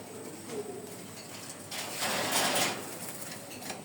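A household pigeon some two decades old gives soft, faint coos against a quiet background, with no talking.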